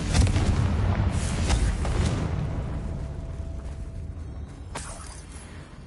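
A Confringo fire spell explodes in Hogwarts Legacy, a loud booming burst at the start that rumbles and fades over several seconds, with a sharp crack near the end.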